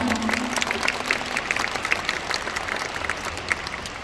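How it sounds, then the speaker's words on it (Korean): An audience at a corporate company event applauds the staff and production team: steady, dense clapping throughout, moderately loud, with a brief voice tone at the start. "So just a nice round of applause for our LifeWave staff and our production team here."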